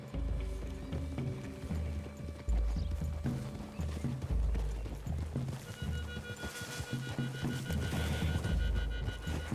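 Horse hooves clip-clop in a steady walking rhythm in the video game Red Dead Redemption 2, heard under continuous background music and game ambience, with no talking.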